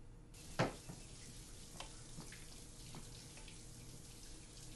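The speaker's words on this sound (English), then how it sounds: "He had the water running." A tap runs steadily in a scene from a TV series, a soft continuous hiss of water with a brief louder splash near the start and faint clinks under it.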